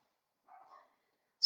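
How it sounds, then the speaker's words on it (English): A dog named Dash barks once, faint and distant in another room, a short muffled woof in an otherwise quiet space. "there's Dash barking"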